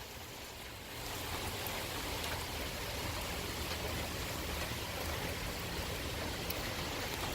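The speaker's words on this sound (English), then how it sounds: "Man, it's raining" Steady, even hiss of rain falling outdoors outside an organ restoration building, continuous and close, growing slightly louder after the first second with no voices.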